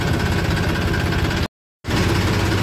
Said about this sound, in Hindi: तो ट्रैक्टर बहुत ज़्यादा दौड़ा भी नहीं सकते हैं, धीरे धीरे जाना पड़ेगा।